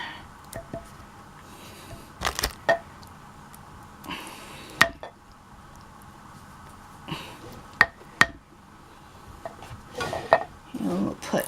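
Pasta sauce is spread with a utensil in a crockpot over ravioli, giving soft wet squishes and occasional sharp clinks and scrapes against the pot, close up and without talk.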